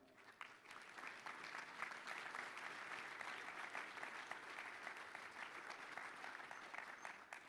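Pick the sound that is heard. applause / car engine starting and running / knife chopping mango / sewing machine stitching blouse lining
applause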